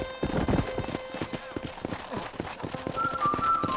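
Rapid hoofbeats clip-clop in a galloping rhythm in a video game, close and distinct, with a horse whinnying briefly and a voice speaking over them.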